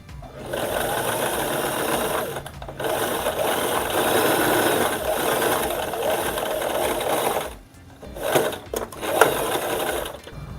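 A sewing machine runs steadily, stitching fabric along a magnetic seam guide, a close, loud mechanical whir with a rattling rhythm that stops briefly near the end before several short bursts.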